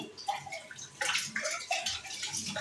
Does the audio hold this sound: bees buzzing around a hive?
no